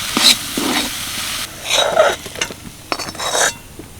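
A spoon scrapes and stirs dry, boiled potato stuffing in a pan, with short bursts of scraping and light clinks against the metal, a faint sizzle between strokes, and no talking.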